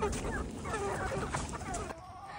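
Several chickens cluck and chatter close by in a barnyard flock, a busy overlapping stream of calls that drops away near the end.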